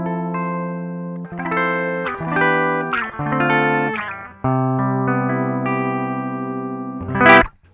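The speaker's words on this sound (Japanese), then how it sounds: "バイパスの音はこんな感じです。ピックアップはリアです。" A Gibson ES-335 electric guitar on its rear pickup, played clean through a bypassed tube preamp pedal and recorded direct: sustained chords and note runs, fairly loud and close, ending in a short bright swell, with no talking.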